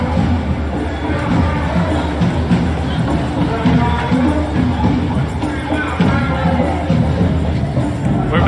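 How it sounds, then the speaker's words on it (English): A solid crowd of protesters in Portland fills a city street with steady, dense murmuring babble and scattered shouts, loud and continuous throughout. "but there's still a solid crowd here."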